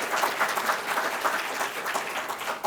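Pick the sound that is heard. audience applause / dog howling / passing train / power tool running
audience applause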